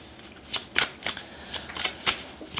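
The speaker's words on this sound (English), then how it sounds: "let me shuffle two more cards." A deck of tarot cards shuffled up close, a steady series of crisp, papery riffles and taps in quick succession with no talking.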